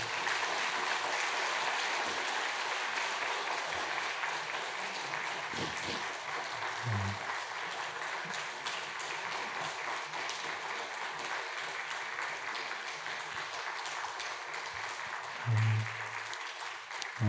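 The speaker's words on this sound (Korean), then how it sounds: "우리 선교팀 자리로 돌아가실 때 응원과 격려의 박수 부탁드립니다" A church congregation at a Sunday worship service applauds the mission team as they return to their seats, a steady wash of clapping from a large room that holds evenly throughout.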